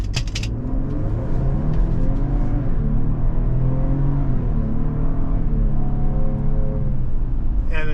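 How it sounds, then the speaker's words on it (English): A 2023 Lincoln Aviator accelerates hard with its 10-speed automatic, the engine note climbing and dropping repeatedly as it shifts up through the gears, loud and close from inside the cabin. "And a nice 10-speed automatic going through the gears for you."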